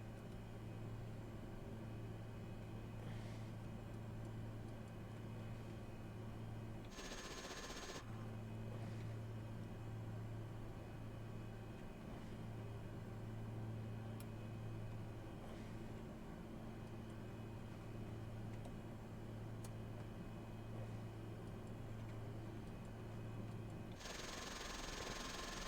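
A PAC P-750 XSTOL turboprop in Microsoft Flight Simulator holds a steady low engine drone with a constant tonal hum, broken by two brief bursts of broadband noise as the propeller spools up. The sound is faint and continuous, with no talk.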